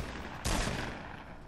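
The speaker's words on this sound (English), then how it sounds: "Where the fuck are you shooting me from?" Gunfire in the Fortnite Battle Royale video game: a loud burst of shots hits suddenly partway through after a quieter stretch, then fades into a lingering rumble.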